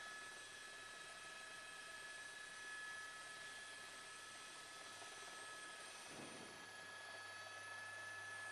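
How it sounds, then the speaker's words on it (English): A helicopter overhead near the UCLA campus during a student protest, a faint, steady distant rotor drone that holds throughout without voices. "That helicopter has about the same fuel capacity as our helicopter"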